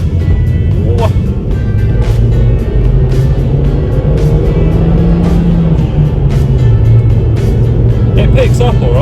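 A 2008 Ford Focus CC with a 2.0 petrol engine accelerates on the road, a steady engine hum rising in pitch under wind and road noise, heard from inside the cabin with a person talking over it.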